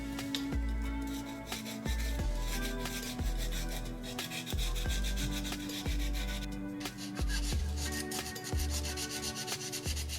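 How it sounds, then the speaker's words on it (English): A porcelain sink chip is sanded by hand with 220 grit sandpaper wrapped on a small wood block, giving continuous rhythmic back-and-forth rasping strokes, close and steady throughout. "we chose 220 grit sandpaper and this small block of wood"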